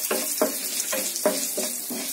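Chilies crackle and hiss in hot ghee, with a steady sizzle broken by regular stirring scrapes about every half second.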